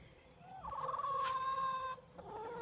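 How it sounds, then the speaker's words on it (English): A blue laced Wyandotte rooster in a backyard flock lets out a single clear crow, drawn out for over a second and fairly distant, against quiet farmyard background. "There's my Wyandotte rooster right there."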